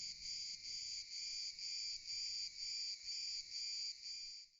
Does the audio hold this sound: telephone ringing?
no